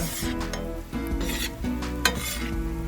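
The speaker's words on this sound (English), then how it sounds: "Mix it in with the chorizo, all that grease from the chorizo." Potatoes are mixed into bubbling chorizo grease in a pan, with loud, close, rhythmic scraping and stirring strokes over a constant frying sizzle.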